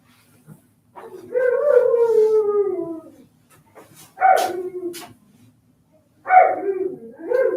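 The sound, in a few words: Malamute dog howling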